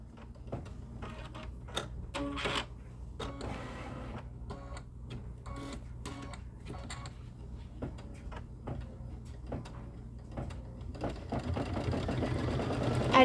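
A sewing machine stitches a quarter-inch seam on a pieced star quilt block, quiet bursts of rapid needle rattle separated by pauses, ending in a longer louder run.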